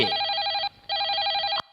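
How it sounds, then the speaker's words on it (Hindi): A telephone rings in two loud, bright electronic bursts separated by a brief pause, close and clear, cut off abruptly after the second ring. "मेरा फोन मेरे लिए नहीं तो किसके लिए बजेगा?"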